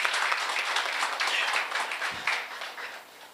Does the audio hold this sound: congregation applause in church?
yes